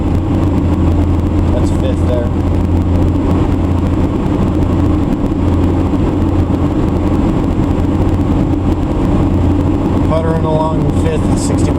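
A 1990 Toyota Corolla with a replacement manual transmission drives along, its steady engine and road drone continuous and loud, with a brief rise and dip as it shifts into fifth gear.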